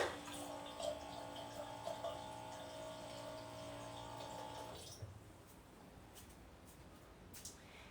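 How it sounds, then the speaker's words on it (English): Water pours steadily into a kombucha jar in a quiet, faint stream that runs with a tonal hum, then stops about five seconds in, leaving soft room noise. "So we'll add a little more water."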